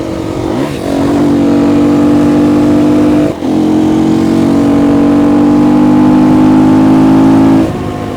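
A KTM 250 EXC-F dual sport motorcycle engine revving hard and close, climbing to a loud sustained high-pitched roar, dipping briefly near the middle, then holding again before easing off, with no talking.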